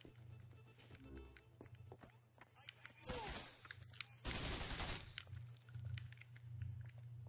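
Gunfire in the game GTA IV during a mission, bursts of loud shots around the middle with footsteps and running between them, fairly close, a low steady hum underneath.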